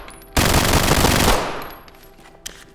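Suppressed fully automatic gunfire from a modded rifle in the tactical shooter Ready or Not: one loud, dense burst of about a second, followed by a fading tail and a faint click.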